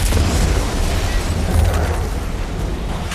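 A car bomb goes off in an action film scene, a loud, rumbling, sustained blast that fills the clip and slowly trails off.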